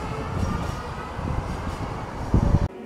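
A tram rolls past on a street in a Russian city, a steady low rumble of wheels on rails that holds through the whole stretch and ends in a louder heavy thump before cutting off.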